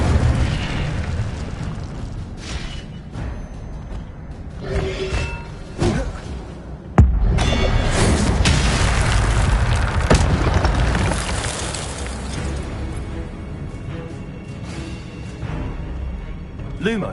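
Incendio fire spell cast in Hogwarts Legacy, heard as a dense run of game effects with booming bursts and one sharp blast partway through. The louder impacts sit over a steady rumble, with some talk in places.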